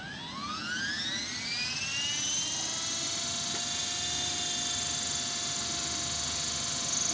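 Radio-controlled helicopter spinning up and then hovering, its high whine rising in pitch before settling into a steady, loud buzzing drone that holds throughout.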